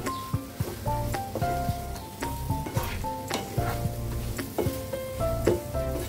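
A spoon stirs hog plum pickle with sugar in a pan, scraping and clinking against the metal in irregular strokes over a soft sizzle, close and with no voices.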